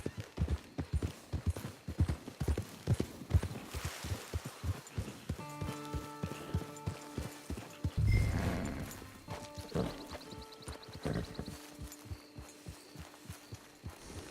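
Horse hooves in Red Dead Redemption 2 clopping in a quick rhythmic gallop, then slowing to scattered steps under a swelling musical score, with a snort or whinny partway through.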